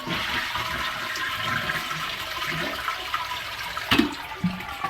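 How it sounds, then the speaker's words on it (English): A toilet flushes during a flapper replacement, a loud close rush of swirling water that surges and gurgles for several seconds with no voices. "And then you flush."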